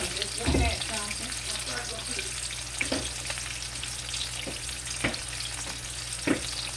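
A cowboy steak sizzles in a pan with a steady frying hiss, broken by a few sharp clatters and stirring knocks, while a faint running-water sound lingers behind.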